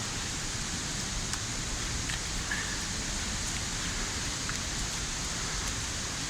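Steady rain falling on a bush walking track at Kariong, a continuous even hiss of drops close around with no talk.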